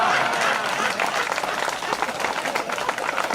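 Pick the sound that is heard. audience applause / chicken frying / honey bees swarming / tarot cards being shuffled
audience applause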